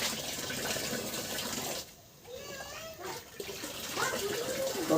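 Green manure liquid is poured from a container onto vine plants, a continuous close splashing gush of water that dips briefly in the middle before resuming.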